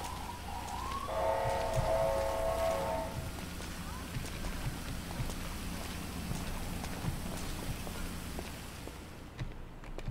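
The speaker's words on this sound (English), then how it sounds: "Get out of the rain." Steady rain falls throughout a street scene in the GTA 5 video game, with a siren wailing briefly near the start and soft scattered taps over the continuous hiss.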